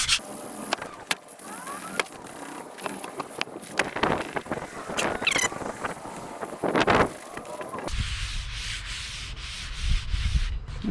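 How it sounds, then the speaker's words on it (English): Light hand sanding of a wood table during refinishing, an irregular scratchy rubbing of strokes at close range with a brief shift in tone near the end. "I'm just gonna lightly sand this, hand sand it, and try and get it to blend in without taking it all off."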